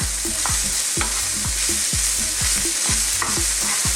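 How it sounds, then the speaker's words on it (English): Mushrooms are tossed and stirred into a hot frying pan of browning beef for shepherd's pie, with a loud steady sizzle and regular scraping strokes of the spoon about twice a second. "Now I'm just going to add a few mushrooms into that. Just toss them in."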